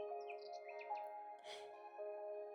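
Small birds chirping and tweeting outdoors among trees, short high calls scattered lightly over a soft, steady musical drone, with no speech.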